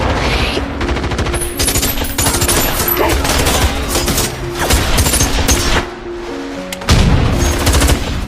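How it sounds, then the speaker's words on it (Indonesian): Rapid gunfire crackles through a film's bank robbery shootout, with bursts of machine-gun fire and single shots running almost continuously, loud and close, over tense background music. "petugas itu menolak dan lebih memilih adu tembak dengan kelompok Jackson"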